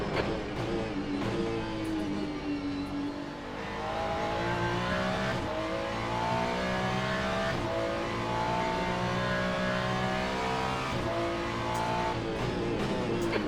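GT3 race car engines in the Le Mans Ultimate racing game rev loudly and continuously, rising and falling through gear changes, with a brief lift off the throttle early on.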